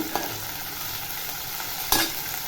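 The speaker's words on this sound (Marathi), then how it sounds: "आता आलं आणि लसणाची पेस्ट टाकते म्हणजे मी दरदरीत कुटून घेतलेलं आहे तेही छान असं परतून घेते" Coarsely crushed ginger-garlic paste with onion sautéing in oil, a steady close sizzle with a couple of sharp spatula scrapes against the pan.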